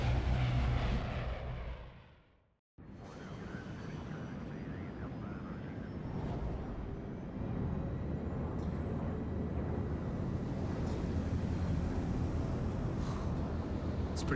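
Airplane cabin in Splinter Cell: Blacklist, a steady, broad engine drone that cuts out briefly at a scene change, then resumes as an even roar close around the listener, with no speech.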